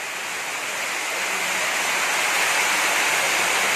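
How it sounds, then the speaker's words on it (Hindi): Floodwater rushes into a basement at a plaza in Jaipur during a flood, a loud continuous roaring wash that swells slightly and carries no voices. "रायसर प्लाजा बेसमेंट में पानी आ चुका है"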